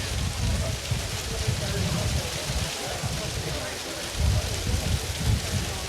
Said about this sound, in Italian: Continua a scendere tantissima grandine.